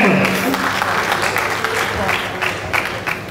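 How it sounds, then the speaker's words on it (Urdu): Audience applause at a mushaira poetry gathering welcomes a poet to the stage, a steady dense clapping that runs throughout, with voices mixed into the crowd noise. "آپ سب کی بھرپور تالیوں میں"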